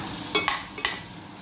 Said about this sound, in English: I mix together and leave it for a while